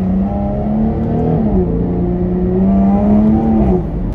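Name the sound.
Jaguar F-Type V6 engine accelerating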